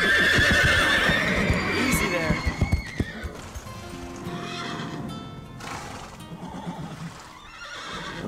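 Horses in a cartoon stable neigh and whinny loudly up close, with a few hoof clip-clops, while music and voices run underneath.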